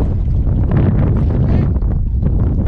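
Strong wind roars and buffets the microphone nonstop on a boat at sea, a dense, rumbling low roar that stays loud throughout with no pauses.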